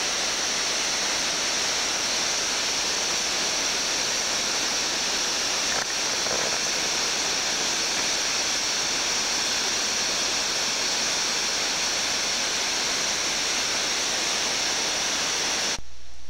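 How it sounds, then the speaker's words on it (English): A waterfall pours off a cape near Pond Inlet in the Arctic, a steady, dense rushing roar that stays even and unbroken throughout. "Another waterfall off of the same cape."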